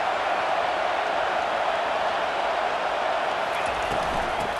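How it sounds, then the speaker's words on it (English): A steady wash of stadium crowd noise from the NCAA 25 college football video game, Penn State against Utah, a constant broad roar with faint talk mixed in. "This crowd bringing the energy and noise early."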